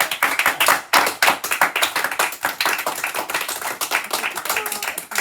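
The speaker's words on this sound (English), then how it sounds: "The boys, just the boys, you deserve a clap," A school assembly audience claps for the boys in a dense, continuous burst of many hands, loud and close, with no talking over it.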